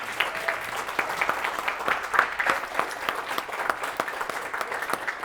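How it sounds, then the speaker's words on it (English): Wedding guests applaud at a reception at Freeham Manor, a lively round of clapping with distinct individual claps audible within the steady crowd sound, lasting several seconds. "Can we just give them a round of applause?"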